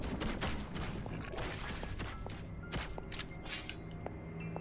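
Gunshots in the horror video game Evil Tonight, several sharp, fairly faint shots spaced irregularly over a low game background, with no talking.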